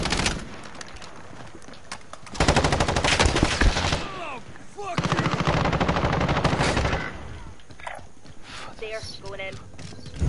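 Shotgun and other gunfire in the Call of Duty video game, loud bursts and rapid shots in two long stretches with quieter gaps between, mixed with game effects and someone talking over it.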